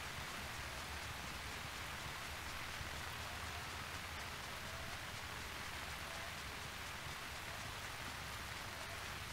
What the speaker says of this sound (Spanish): Cuando riega, cae como si fuera una lluvia, es decir, como una lluvia natural.